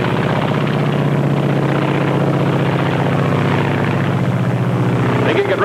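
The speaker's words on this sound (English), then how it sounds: "This is the Japanese Zero." A Japanese Zero fighter aircraft drones steadily and loudly in flight, its propeller engine giving a continuous throbbing hum with no break throughout.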